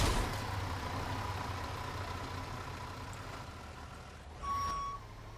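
A fire engine truck in the firefighting video game Into The Flames idles with a steady low engine rumble, then a single bright reversing beep sounds near the end, clear above the hum.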